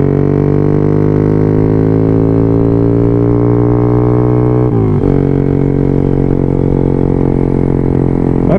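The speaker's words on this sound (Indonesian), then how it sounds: "kita nak test motor ni" A motorcycle fitted with a free-flowing exhaust runs loud and close, its engine held at a steady high rev with a brief dip and recovery midway before droning on evenly to the end.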